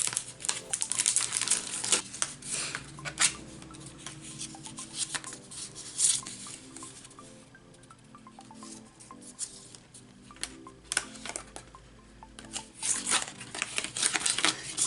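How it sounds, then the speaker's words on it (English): Scrap paper embossed in a die cutting machine, with crinkling and rustling of paper and plates, rubbing and sliding sounds, and uneven cranking passes that swell and fade, close and moderately quiet. "I'm just going to emboss them."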